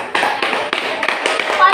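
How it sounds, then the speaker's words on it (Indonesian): A classroom of students claps hands in brisk, uneven bursts at close range, with children's voices mixed in. "Ya, kita kasih tepuk tangan."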